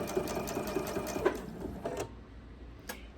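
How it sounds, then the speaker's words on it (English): A sewing machine runs steadily as it stitches a scrap selvage starter strip for binding, a close rhythmic needle patter that stops near the two-second mark, leaving quiet room tone. "And I sew that right up until my needle is right in the edge of that"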